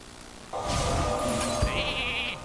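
A Polymorph spell in the Hearthstone card game turns a minion into a sheep, giving a loud, wavering synthetic bleat together with a bright magical shimmer and chime, with no talking.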